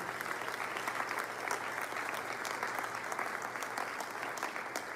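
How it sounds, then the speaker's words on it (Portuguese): A church congregation applauds during a sermon, dense sustained clapping from many hands at moderate distance, steady for several seconds with a faint murmur of voices beneath. "Um aplauso ao Senhor por isso."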